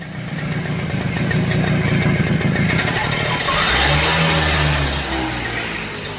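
TVS Super XL moped with a blocked silencer, its engine running close up with a rough, steady drone that rises briefly in a weak rev before easing off; a voice talks over it.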